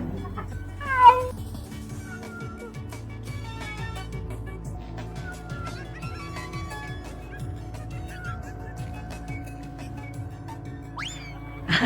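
A cat meows repeatedly at close range, with other animal calls resembling fowl or turkey gobbling and some background talk mixed in.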